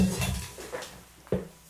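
An uneven-rimmed, very old antique Thado singing bowl, pitched at D4, rings with a soft metallic tone, then a short strike near the end sets off a brief ring. Both sound quiet and close, with no one talking.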